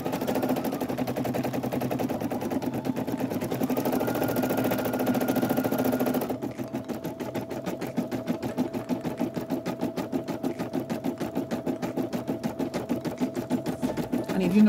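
A single-needle embroidery machine stitches a design in a 5x12 inch repositionable hoop, with a fast, steady mechanical needle rhythm that runs continuously and close by. The tone shifts partway through as the stitching changes, and no one talks.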